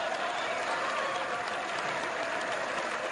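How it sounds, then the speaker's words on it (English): A steady wash of crowd applause at a political event, dense and unbroken at a moderate level throughout, with no individual claps standing out. "No, I know we got applause."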